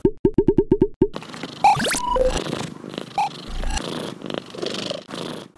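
A cat purrs close by just before drinking lactose-free cat milk, the purr a steady soft rumble after a few quick rhythmic pulses at the start.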